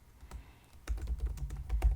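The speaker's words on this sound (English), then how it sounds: "hope that you liked the typing" Close, crisp computer keyboard typing while coding a beginner tutorial on variables and for loops, with quiet sparse keystrokes at first, then a busier run of clicky taps over a soft low thump.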